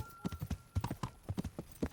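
Horse hooves galloping in a video game, a fast steady clip-clop rhythm of thudding beats, close and continuous, with no talking.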